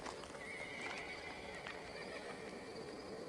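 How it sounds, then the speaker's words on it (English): Horse hooves clip-clop faintly in the distance beneath a steady wash of background noise, with a soft whinny-like tone drifting through. "It's a horse."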